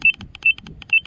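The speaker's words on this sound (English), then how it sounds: "A carbon monoxide alarm." A carbon monoxide alarm, found outdoors, gives loud, sharp electronic beeps in quick bursts, three bursts in about a second, close up and with no talking.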